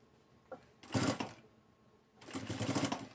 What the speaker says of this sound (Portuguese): Venho com a costura e já vou encaixando.